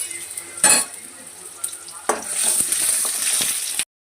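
Garlic and two small onions sizzle in a pan while a utensil clinks and scrapes against it during the stirring, loud and close, with a steady frying hiss between the scrapes.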